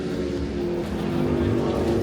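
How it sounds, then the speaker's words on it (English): Race cars at a street car competition run through the woods at a distance, a steady engine drone holding without letup as a continuous background roar. "The cars are racing back there in the woods."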